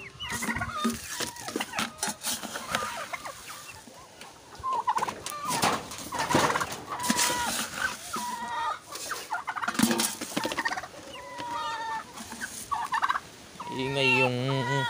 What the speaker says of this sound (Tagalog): Ingay yung turkey ko.